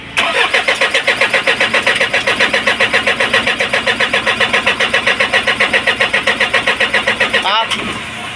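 An Isuzu 4HL1 diesel engine cranks hard without catching, a steady rhythmic starter churn lasting about seven seconds before cutting off, loud and close.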